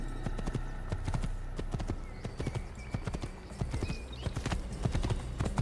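Horse hooves clip-clop in the Assassin's Creed video game, a brisk run of sharp, fairly close hoofbeats on hard ground that keeps going throughout, with faint ambient game sound beneath.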